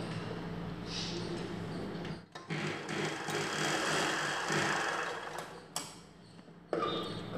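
A sewing machine runs in short bursts while stitching a katori blouse, its whirring motor broken by brief pauses and restarts, fairly close and quiet, with no talk.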